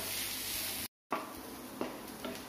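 Chopped onion with green chili and salt sizzles and is stirred in a hot pan for an egg curry, a close steady frying hiss broken by a brief silent gap, then soft scraping stirs.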